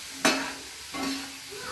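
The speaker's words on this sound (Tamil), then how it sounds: "திரும்ப எண்ணெயில் போட்டு நல்லா கொஞ்சம் சூடான எண்ணெயில் போட்டு எடுத்தோம்னா இந்த ஃப்ரெஞ்ச் ஃப்ரைஸ் ரெடி" French fries hit hot oil in a kitchen pan, setting off a sudden loud sizzle that fades, then a second softer burst of bubbling frying noise, close up with no voices.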